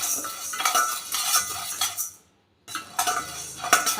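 Chana dal being dry roasted in a pan, with a spoon scraping and rattling the dry lentils in brisk close strokes, broken by a short silent pause midway.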